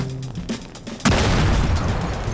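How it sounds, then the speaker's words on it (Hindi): A thrown grenade detonates with a loud, sudden boom in Gangstar Vegas gameplay, preceded by a few light clicks and thuds, then a sustained rumbling roar that holds to the end. "ओके सो अभी जो है नाम ग्रेनेड फेंकते हैं।"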